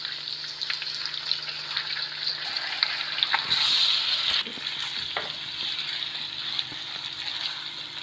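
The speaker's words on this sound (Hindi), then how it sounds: "तीन मिनट हमने लहसुन अदरक के पेस्ट को भून लिया पंजों के साथ।" Ginger garlic paste frying with panjay, chicken feet, in a pan: a steady, close hiss and sizzle of hot oil with occasional clinks and scrapes from stirring, continuous throughout and without talk.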